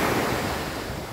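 Ocean surf and wind on a Sri Lankan shore, a loud continuous wash of breaking waves with gusty wind buffeting close by, no voices.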